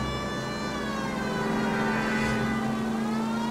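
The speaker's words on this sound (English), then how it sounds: "Turn on the siren." A police car siren wails continuously in a driving video game, a loud steady electronic tone held throughout over a low engine rumble, with no speech.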